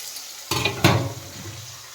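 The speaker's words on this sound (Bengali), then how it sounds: "মিষ্টিটা ধুতে হবে।" Tap water gushes on in two quick bursts for rinsing sweets before frying, a close splash that starts abruptly, then settles into a softer trickle and fades.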